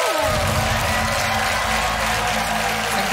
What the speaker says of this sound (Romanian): haideți să-l primim cu un rând furtunos de aplauze pe Paupi el Mago